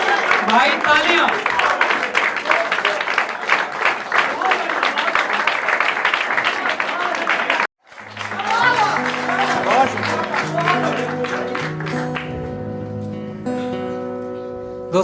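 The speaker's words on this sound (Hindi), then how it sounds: "भाई तालियां।" Audience applause at a Hindi shayari poetry show, dense steady clapping filling the room for about seven seconds, then a brief cut before a second burst of clapping returns with a music bed rising underneath.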